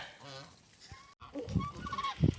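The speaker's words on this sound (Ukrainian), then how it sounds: "Ось гуськи вже біжать, грязнючі, мокрющі." Muddy, wet geese running on a farm in western Ukraine, giving several short, close honks in irregular bursts, with rustling and movement between the calls.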